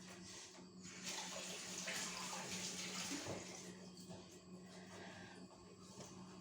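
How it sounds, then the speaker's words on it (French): Water runs steadily from a kitchen tap as hands are rinsed under it, a continuous broadband splashing rush that holds close and even for several seconds, with no voices over it. "je vais me rincer les mains en vitesse."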